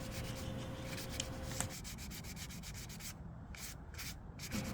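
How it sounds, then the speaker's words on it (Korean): Sandpaper rubs by hand over a car wheel's spokes in a quick, steady back-and-forth scrape, close and continuous with no talk. "이 살 부위는 이 수작업으로 해서 이렇게 갈아내시면 됩니다"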